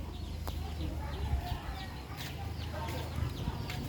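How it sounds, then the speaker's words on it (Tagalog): Chickens, including chicks, a hen and a rooster, make soft clucks and short peeps over a low background hum, fairly quiet and steady throughout. "Dito, yan ang aking mga sisiw, inahin, nandyan din ang tandang."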